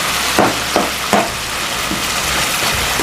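Ginger paste frying in a pan with green chillies and chilli powder, a steady loud sizzle broken by three sharp stirring scrapes early on, followed by softer clatter.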